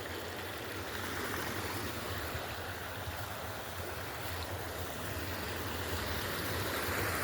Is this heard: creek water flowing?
yes